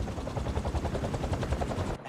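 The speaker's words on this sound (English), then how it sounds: "a helicopter's blades" Helicopter rotor blades in the Spider-Man 2 video game, a loud, rapid, even thudding chop with a deep low-end pulse that beats steadily before cutting off abruptly at the end.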